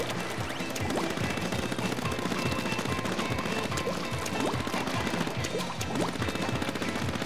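Ink weapons in the Nintendo Wii U shooter Splatoon on the Mahi-Mahi Resort stage fire in rapid, continuous splattering bursts, joined by a dense wash of game effects and no talking.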